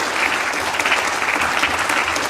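A parliamentary chamber fills with dense, continuous applause from many hands, loud and steady for the whole stretch without a voice breaking through.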